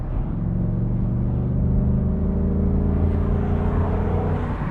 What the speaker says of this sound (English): Drop it down a gear again.